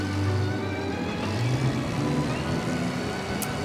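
A car engine hums and drones steadily during a drive in the game Mafia Definitive Edition, with low harmonic tones shifting slightly in pitch as it cruises, loud and continuous throughout with no talking.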